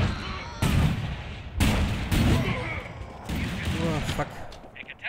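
Gunfire in the video game The Culling: several loud, close shots in separate bursts, each with a broad crack and lingering tail, with a voice under them.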